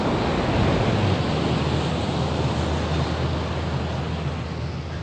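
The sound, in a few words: ocean waves on the shore after the tsunami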